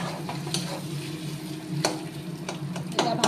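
Food sizzles steadily in a pan while being stirred, with a constant frying hiss broken by several sharp scrapes and clacks of the utensil against the pan.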